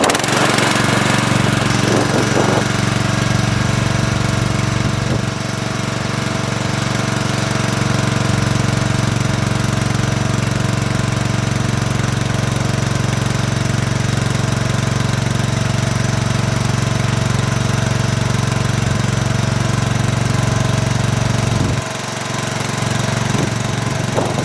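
A Craftsman garden tractor's engine runs steadily close by while an ATV winch mounted on it pulls a boulder, a loud constant droning rumble with a brief dip near the end.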